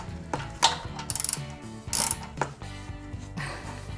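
Ratchet wrench loosening the 13 mm bolt on an Aprilia Tuono's large exhaust can, close-up rapid clicking bursts separated by brief pauses, with no talking.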